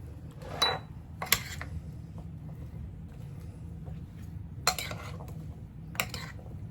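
Squash gratin ingredients are stirred in a baking dish, giving a few sharp metallic scrapes and clinks of a utensil against the dish in short bursts, separated by quiet pauses over low background hum.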